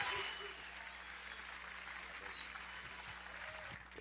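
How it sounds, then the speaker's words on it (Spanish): Church congregation applauding Jesus during a Spanish-language service, a soft, steady wash of clapping that carries on for the whole stretch and stays fairly quiet and distant throughout. "Denle un aplauso a Jesús."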